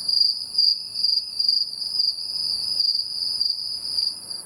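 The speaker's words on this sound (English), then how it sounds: "Crickets." Crickets chirp in a steady, high, continuous trill, close and clear against otherwise quiet surroundings, played as a comic stand-in for silence.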